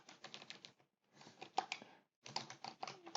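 Quick bursts of keystrokes on a computer keyboard, close and crisp, clustered into three short runs separated by brief pauses while a style name is entered in AutoCAD 2020.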